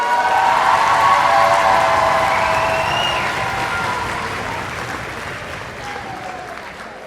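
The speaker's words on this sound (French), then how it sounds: "c'est bien que vous applaudissiez" An audience at a university social sciences graduation ceremony applauds continuously in a large hall, loud and dense at first and slowly fading, with a few voices calling out over the clapping.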